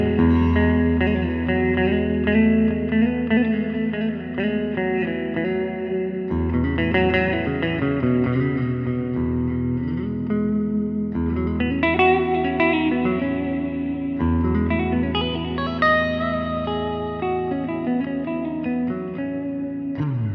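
Guitar improvising scale notes over a droning open string, drenched in effects with reverb, echo and chorus; a steady, sustained and fairly loud stream of ringing notes with no talking.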